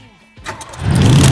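A car engine cranks and catches after a brief near-silent moment, its rumble swelling quickly and holding loud, close by.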